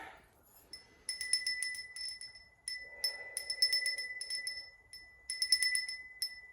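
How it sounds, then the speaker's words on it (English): A hand bell rung to cleanse energy, its bright metallic strikes repeating in quick clusters with a steady ringing tone that sustains throughout, fairly close and faint overall, no talk. "I'm also going to ring my bell to cleanse the energy"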